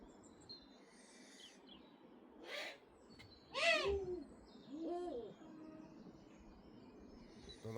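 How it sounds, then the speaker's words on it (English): Wild birds call outdoors, with two or three distinct, fairly clear calls standing out from a quiet background, with no talking. "The wild bird noise sounds great, doesn't it?"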